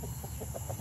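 A chicken clucking in a backyard garden, a few short soft clucks close by, brief and unaccompanied by talk.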